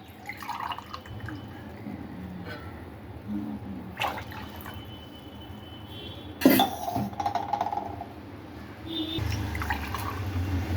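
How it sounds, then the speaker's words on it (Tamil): Water splashes and trickles steadily into a metal vessel for sambar, with occasional clinks of utensils and a soft background hum throughout. "இதுக்கு வந்து நான் மூணு டம்ளர் தண்ணி ஊற்ற போகிறேன்"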